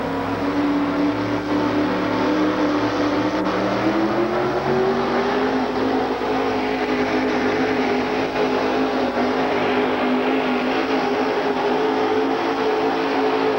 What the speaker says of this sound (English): The truck never faltered 1 inch going down the track